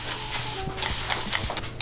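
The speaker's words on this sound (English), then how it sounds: "So as I'm spraying the water into Hard Jap's hair here" A barber's water spray bottle misting a client's hair before a trim, heard as a few quick hissing bursts over a steady background hum.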